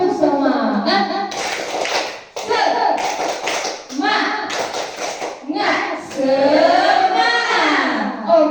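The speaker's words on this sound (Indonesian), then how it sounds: "Kita tepuk semangat dulu ya." Teachers and schoolchildren do a rhythmic spirit clap together, with quick bursts of hand claps mixed with loud group chanting voices in a lively, patterned rhythm.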